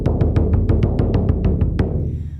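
A fast, rapid-fire drum beat signals the return cue in a shamanic drumming meditation: quick, even strikes of about five per second, loud and near, ending with a single hit that rings out.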